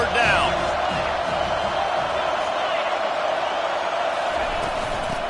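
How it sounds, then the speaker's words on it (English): A college football stadium crowd at an Iowa versus Penn State game roars in a steady, dense wall of cheering as the home defense lines up on third down, with a commentator speaking over it. "Decibels rising as the crowd gets behind this defense on 3rd down."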